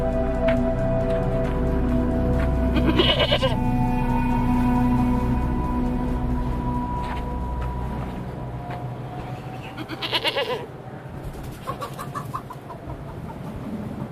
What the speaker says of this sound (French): nous vous offrons cette chèvre en signe de respect et d'entente cordiale